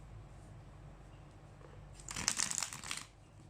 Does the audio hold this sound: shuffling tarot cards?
yes